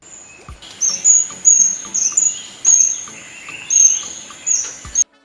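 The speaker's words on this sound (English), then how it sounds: "The South Philippine dwarf kingfisher, Cix mindanensis, is a small and exceptionally rare bird endemic to the forests of the southern Philippines" South Philippine dwarf kingfisher (Ceyx mindanensis), a small rare forest bird, gives a series of high, thin repeated calls at a steady rhythm, with faint forest insect chirps in the background and no talk.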